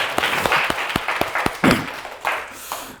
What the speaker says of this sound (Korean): 우리의 삶을 위해서 박수 한번 칩시다.